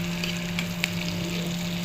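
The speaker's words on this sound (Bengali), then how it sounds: "চিংড়ি মাছটা একটু ভেজে নিচ্ছি" Shrimp frying in a pan, likely alongside nigella seeds, garlic and green chillies, gives a steady low sizzle with a faint hum and one small crackle, no voices.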